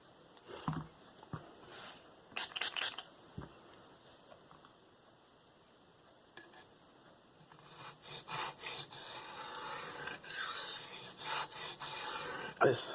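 A Spyderco Paramilitary 2 knife with an S30V steel blade is sharpened on DMT diamond plates, giving short, raspy strokes that start sparse and quiet, then turn into quicker, louder rhythmic scraping near the end.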